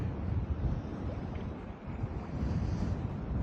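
Wind gusting over Lake Guntersville during autumn bass fishing from a boat, a steady low rushing roar with microphone buffeting and faint water movement, no voices.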